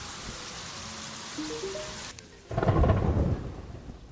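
Rain and thunder in the video game Terraria: steady rainfall hiss with short rising game tones, then a sudden loud rumbling thunderclap that swells and fades.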